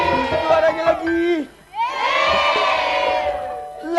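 An audience shouts back together in a loud burst of mixed voices, drops briefly, then rises again into a sustained crowd cry at an Indonesian stage event.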